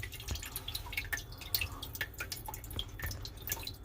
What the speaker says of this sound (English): Uh-oh, I hear it leaking.